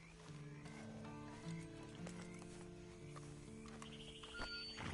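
Horse hooves clip-clop in a PlayStation 4 video game, a steady walking rhythm sitting under layered game music and ambient tones, moderately loud and continuous throughout.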